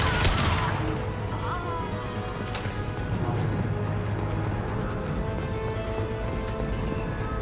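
Impact shot gunfire in Mass Effect 2 on the Zaeed mission: a sharp blast at the start and another burst a couple of seconds later, followed by steady rattling combat noise.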